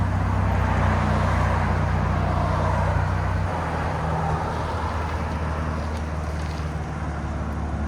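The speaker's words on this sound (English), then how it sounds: "Chevy Camaro RS 2019 with a full system by MRT." A 2019 Chevy Camaro RS with a 3.6L V6 and MRT cat-back exhaust gives a steady low rumble that idles smoothly, then eases to a slightly lower drone partway through, with no voices.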